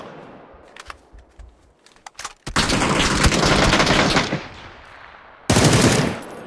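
Bursts of Beryl M762 automatic rifle fire in the shooter game PUBG, a loud sustained volley followed by a second short burst, preceded by scattered footsteps and small game noises.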